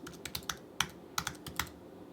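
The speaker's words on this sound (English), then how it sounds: "then I'm going to type in a password" Password being typed on a computer keyboard, a quick run of crisp individual keystrokes with uneven spacing, close and clear against a quiet room with no talking.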